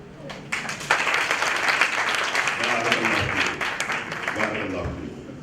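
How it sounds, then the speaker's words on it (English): Women in the audience at a talk on zakaat in Ghana clap together, the applause starting abruptly after a brief pause and holding steady and fairly loud, with faint voices mixed in. "Can you clap for us?"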